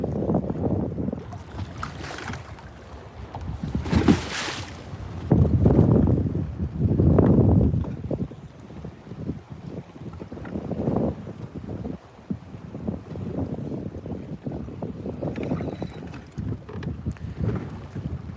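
Strong gusting wind buffets a fishing boat on open water during Hurricane Milton while bass fishing, with loud broadband rushes and low rumbling gusts rising and falling throughout, no talking.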